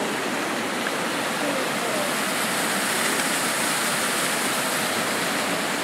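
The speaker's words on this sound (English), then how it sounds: "This is Lake Megacoro waterfall." Lake Megacoro waterfall roars in a dense, steady broadband rush of falling water that fills the scene from start to finish, loud and unbroken with no other sounds standing out.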